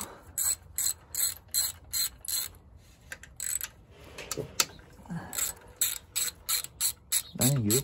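Ratchet wrench working bolts off a housing on a 2013 John Deere Gator XUV550 during engine removal, loud close rapid clicking bursts in a steady rhythm, with short pauses and a brief low voice near the end.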